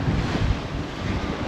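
Strong wind buffets a sailboat at sea in about 23 knots of breeze on an ocean crossing from the BVI toward the Azores, with waves and surf washing steadily around the hull in a continuous, loud, rushing roar.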